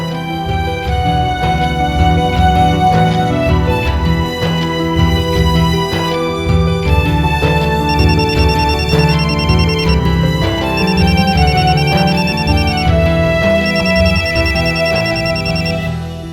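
An electronic phone ringtone plays a loud, steady melodic tune that repeats continuously without pause, with no talking over it.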